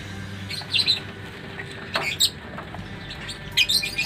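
Lovebird chick about two weeks old, its eyes newly open, giving a few thin high chirps and squeaks at close range over a faint background hum.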